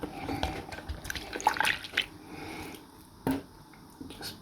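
A plastic 1990s mermaid doll is rinsed in water, giving light splashes, drips and trickles in a quick irregular rhythm, close by, with a firmer splash near the end.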